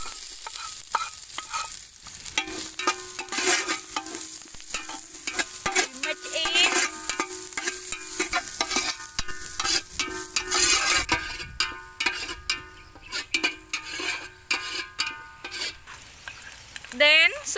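Garlic, kalangka and spices frying in hot oil in a pan, a loud continuous sizzle broken by frequent scraping stirs, with the sizzle easing midway and stirring strokes becoming more distinct and spaced.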